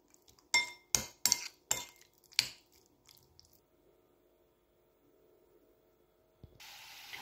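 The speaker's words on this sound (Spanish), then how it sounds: "ya tenemos esto por aquí en la sartén y lo vamos moviendo para que se haga" A utensil knocks and scrapes against a frying pan holding a yogurt mixture, five sharp clinks in quick succession, then quiet, then a soft hiss at the end.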